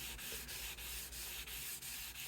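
Hand sanding of a vintage Rickenbacker guitar's finish with 320 grit sandpaper, a soft steady rasping with rhythmic strokes repeating about every third of a second, close and quiet, no voices.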